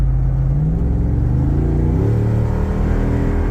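A Jeep's V8 engine rumbles loud and close as it drives through corners, its low tone shifting pitch as it revs up and eases off, with no talking over it.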